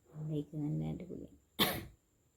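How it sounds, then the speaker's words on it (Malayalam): A single sharp, harsh cough bursts out close by after a stretch of someone talking quietly, and then the sound falls silent. "അതിൻ്റെ ഇടയിൽ കൂടെ ചുമയുണ്ട്"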